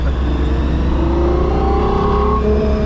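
A Gordon Murray T.50 supercar engine pulls hard while accelerating, a loud continuous close-up roar with rising tones as the revs climb, heard alone without talk.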